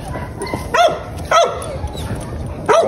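Kennel dogs bark; one barks sharply three times at uneven intervals, loud and close, with quieter yips and background noise between barks.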